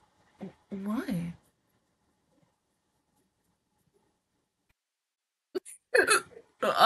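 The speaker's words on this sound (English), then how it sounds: "Oh, God dang it, I got hiccups." A person hiccups a few times in short, sharp bursts, mixed with brief voiced sounds and breaths, close and fairly loud after a long quiet gap.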